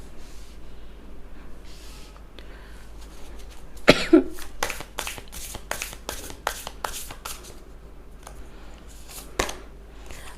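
Tarot cards are shuffled and drawn by hand, soft rustling followed by a rapid run of crisp riffling flicks midway, with a cough-like snort and a few scattered card snaps later in a quiet room.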